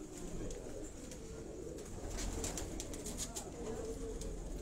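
Chopdar pigeon cooing at a loft in Sialkot, a steady low murmuring coo that carries through the whole stretch amid outdoor background noise, with no one speaking.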